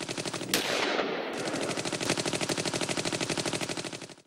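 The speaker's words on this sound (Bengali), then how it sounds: "বাড়ির চারপাশে মুহুর্মুহু গুলি চলতে থাকে, প্রচণ্ড গুলির শব্দে ঘুম ভেঙে যায় বাড়ির সবার।" Heavy automatic gunfire rattles in rapid, evenly spaced bursts, loud and close, with a sharp blast near the start and a continuous stream of shots fading slightly at the end.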